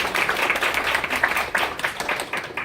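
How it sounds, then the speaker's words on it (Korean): Applause from an audience at a formal presentation event, brisk clapping heard close and fairly loud throughout. "큰 박수로 맞아주시기 바랍니다"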